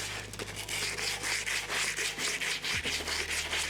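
Sandpaper rubs rhythmically against a car differential housing in close, steady back-and-forth strokes, each pass a rough swishing scrape, with a faint low hum beneath.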